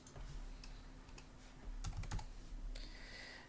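Quiet, close typing on a computer keyboard: irregular clusters of soft key clicks with brief pauses, alone in a still room.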